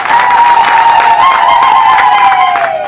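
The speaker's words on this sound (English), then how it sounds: "Put your hands together," Outdoor crowd at a district headquarters construction launch in Arua clapping hands and cheering, a loud, dense and steady wash of applause with shouts, lasting throughout.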